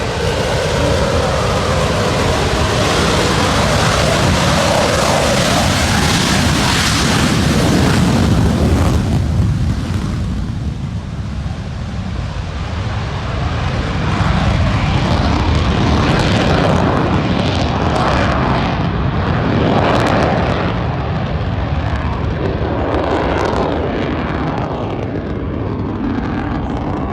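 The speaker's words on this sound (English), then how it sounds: "our FA-18F Super Hornet Australia" An FA-18F Super Hornet fighter roars loud and continuous at an evening airshow, the engine noise swelling and shifting in pitch as the jet manoeuvres overhead.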